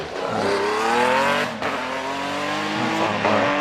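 A Porsche Boxster race car revs at the start line of a Prescott hill climb run. Its engine note rises in pitch through the gears, dips briefly and then climbs again, loud and fairly close, with no talk.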